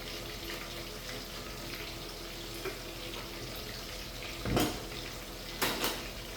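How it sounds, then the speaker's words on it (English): Oil poured from a bottle into a cooking pan in a home kitchen, heard as two short splashy, liquid bursts over a steady background hiss. "we'll just pour a little oil in here"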